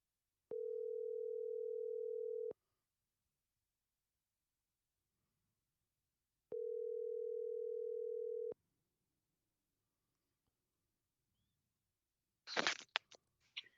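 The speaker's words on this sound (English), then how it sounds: "I'm going to call him like 10 times if he doesn't answer" Outgoing phone call ringback tone, two long steady electronic rings spaced by silence, clear and alone, followed by a brief clatter as the line picks up.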